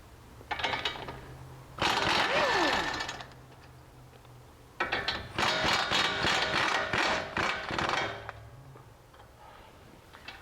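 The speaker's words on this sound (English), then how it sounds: "now we're going to take off these two nuts which hold the strut to the steering knuckle itself" Ratchet wrench removing the nuts that hold a Mustang GT strut to the steering knuckle, close rapid clicking in two long bursts separated by a quiet pause.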